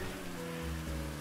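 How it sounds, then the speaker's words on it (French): Steady rain patters down in a motorbike racing video game, a dense even hiss with a low engine-like drone underneath that shifts pitch partway through. "et en plus il pleut"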